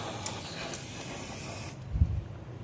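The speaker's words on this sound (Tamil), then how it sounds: "Rust spray அடித்தாச்சு." Aerosol rust spray hisses steadily onto an LG front-load washing machine for under two seconds, then cuts off, followed by a soft low thump.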